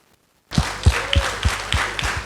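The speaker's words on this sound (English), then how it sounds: "A round of applause to our panelists." An audience applauds panelists at a community discussion event, a short burst of clapping with a few sharp, prominent claps standing out over a steady, moderately loud patter.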